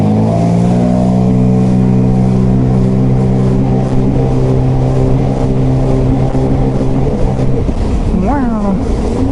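A Sea-Doo Spark personal watercraft in sport mode, its engine droning loud and close with a rising pitch as it accelerates, heavy wind buffeting over it, and a brief voice near the end.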